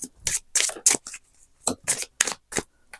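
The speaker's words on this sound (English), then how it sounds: "Let's get shuffling and see what card comes out." Cards being shuffled in a series of quick riffling bursts separated by short pauses, close and crisp, with no talking.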